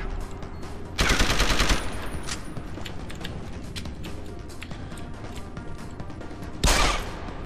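Pistol shots in the video game Deus Ex: Human Revolution – The Missing Link: two loud, dense bursts of rapid gunfire, one near the start and one near the end, over continuous game music and ambient noise.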